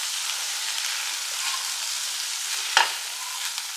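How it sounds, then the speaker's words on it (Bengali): Prawns frying in oil in a covered pan, a steady close hiss of sizzling with one brief clatter near the end, no speech. "একটু চাপা দিয়ে দিয়ে কিন্তু ফ্রাই করছি, কারণ তা না হলে চিংড়ি মাছটা সেদ্ধ হবে না"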